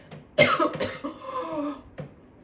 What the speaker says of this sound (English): I'm going to cough, I'm going to cough.